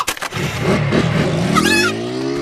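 A small engine revs up loudly and holds a rising whine close by, with a brief higher tone near the end.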